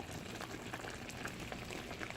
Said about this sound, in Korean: 보글보글 끓기 시작하면 고기 투하.